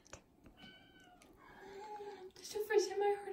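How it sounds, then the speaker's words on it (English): Teacup Persian kitten giving several short, thin meows that grow louder toward the end, close by indoors, with people talking softly around it. "This is the first time I heard her meow."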